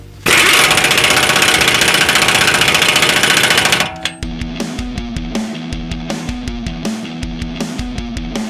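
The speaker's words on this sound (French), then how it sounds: "Nouvel écrou de cardan, il faut le changer à chaque fois. Je le serre à la clé à choc" An impact wrench tightens a new driveshaft nut on a Tesla: a loud, continuous buzzing rattle for about four seconds, then a rapid run of heavy rhythmic hammering blows, close up.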